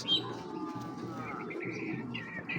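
Close, continuous cooing from checker pigeons kept for breeding rolls along in low rhythmic phrases, with a few brighter bird chirps and whistles rising over it.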